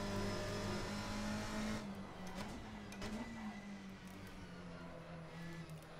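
A race car engine in the video game Assetto Corsa, a quiet, steady engine drone that shifts pitch slightly as the throttle changes, heard alone without talk.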